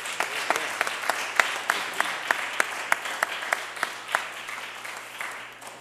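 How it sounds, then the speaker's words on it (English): Audience applause welcoming a returning speaker at a Forbes Under 30 Summit event in Philadelphia, a steady crowd clapping with sharp individual claps standing out, moderately loud and fading slightly toward the end, with no talking over it. "Let's give Randall a big, big Philadelphia applause and welcome him back to the great city."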